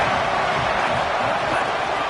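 Home crowd at a football game roars as a steady, dense wall of noise with no breaks, loud and sustained throughout.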